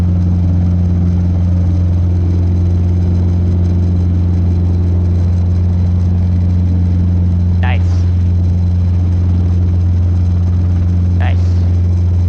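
A Robinson R22 helicopter engine drones loudly and steadily in the cabin during a flight lesson, a constant low hum with a whirring edge and two brief high chirps, and no talking.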